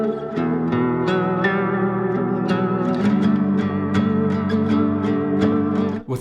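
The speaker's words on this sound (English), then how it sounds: "lap steel sound, I ran into the 424 with little gain because I wanted it to sound pretty clean, and then I ran into my Boss Space Echo" Lap steel guitar played clean through a JHS 424 gain stage at low gain, then a Boss Space Echo and a Walrus Audio Slow pedal. Sustained gliding notes swell softly and wash into lush echoing repeats and reverb.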